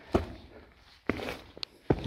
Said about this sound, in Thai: ในนี้เสียงฝีเท้า